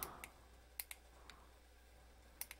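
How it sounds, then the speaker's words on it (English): A handheld remote controller clicking during a Call of Duty: Black Ops II session, a few faint, crisp clicks spaced irregularly over quiet background hiss. "you can actually hear my remote clicking."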